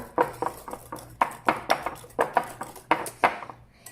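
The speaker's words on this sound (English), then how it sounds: "Now we're gonna mix until it's nice and creamy." Brownie batter being mixed in a bowl until creamy, a utensil knocking and scraping against the bowl in quick repeated strokes, close and moderately loud, with no talking.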